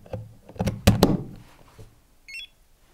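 Voltage tester plugged into a wall socket, warning of voltage: a few dull thuds and clatter from the plugging in, then one short, high electronic beep near the end.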